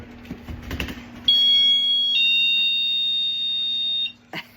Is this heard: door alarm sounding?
yes